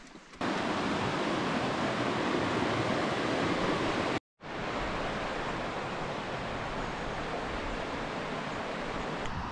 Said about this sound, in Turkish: Köye su kaynağını sağlayan dere arkadaşlar.